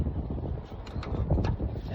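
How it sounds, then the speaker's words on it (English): Wind gusts outdoors in cold weather while someone works on a 2010 F150's struts, rumbling and buffeting against the microphone, with a few faint knocks and clinks mixed in. "It's windy and cold today."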